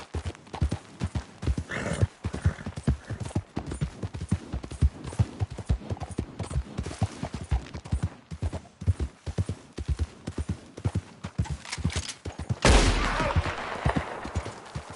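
Horse hooves gallop in Red Dead Redemption 2, a steady rapid clip-clop rhythm throughout, close and fairly loud, with a brief burst of louder rushing noise near the end.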